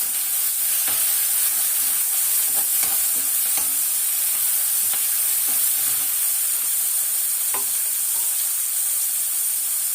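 Onions sauté in a frying pan with a little salt, giving a steady, close sizzle and hiss throughout, with occasional stirring clinks and no talking.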